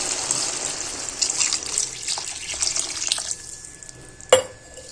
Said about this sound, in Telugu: తీసి ఇందులో ఇది మసులుతున్నప్పుడు దీంట్లో 2 గ్లాస్ వాటర్ అయితే పోసేసుకోవాలండి